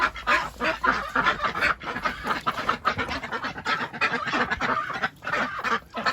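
A dense flock of ducks and geese in a tunnel-style enclosure honks and quacks loudly and continuously, with overlapping calls close to the listener.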